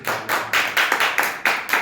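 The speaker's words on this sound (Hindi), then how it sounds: "ताली बजा के हम प्रभु के नाम से" Church congregation clapping hands in unison, a loud, close, rhythmic series of sharp claps at a brisk, even tempo with no talking over them.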